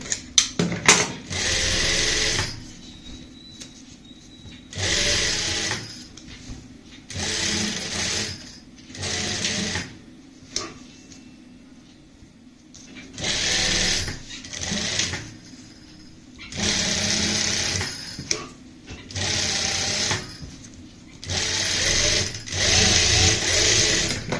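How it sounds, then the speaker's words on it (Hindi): Domestic sewing machine stitching a neckline on plain fabric, running in repeated bursts of a few seconds each with quiet pauses between runs, close and fairly loud with no talking. "जैसे नॉर्मल सिलाई लगती है वैसे ही हम यहाँ पे सिलाई लगा लेंगे"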